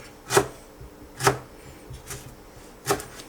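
Sharp knife chops through lemongrass strike a cutting board in an uneven rhythm, about five distinct cuts, close and crisp with quiet pauses between.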